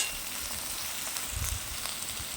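Dhundul gourd pieces frying in hot oil for a hilsa curry, giving a steady soft sizzle with faint crackles and a brief stir partway through, heard close and alone.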